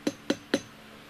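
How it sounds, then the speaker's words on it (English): Three quick, evenly spaced metallic taps of a hammer on a handmade brooch, each sharp and close with a short ringing decay, followed by quiet. "Tap, tap, tap."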